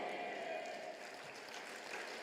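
A church congregation claps together during a worship service, a steady soft patter of many hands heard from a distance with no voices over it.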